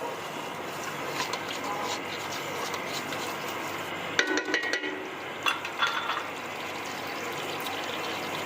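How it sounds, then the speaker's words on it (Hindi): A bowl of oil stirred in a pot over high heat during aloo chicken cooking, a steady sizzling hiss with a few scraping clinks from the spoon partway through. "इसके अंदर हम डालेंगे 1 कटोरी ऑयल और आंच तेज़ कर लेंगे इसकी, मिक्स कर लेंगे इसे।"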